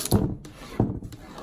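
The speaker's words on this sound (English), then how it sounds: "you grab your rubber thingy, rubbing stick. Yes, that's what we'll call it. And just start rubbing" A rubber rubbing stick scrapes across a glass cabinet door in two short, close squeaky rubs about half a second apart, with no talk.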